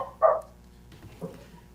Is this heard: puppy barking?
yes